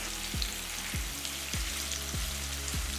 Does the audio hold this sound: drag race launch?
no